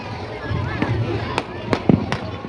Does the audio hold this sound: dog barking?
no